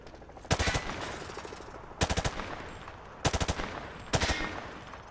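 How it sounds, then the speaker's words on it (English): A weapon is fired from the hip at targets on a Modern Warfare training range, in four short rapid automatic bursts spaced about a second apart, loud and crisp with echoing decay between them. "Grab that weapon off the table and fire at the targets behind you"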